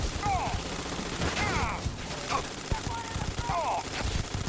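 In the space game Starfield, automatic gunfire crackles in rapid bursts amid whooshing, sweeping weapon and effect sounds, with a player speaking over the action.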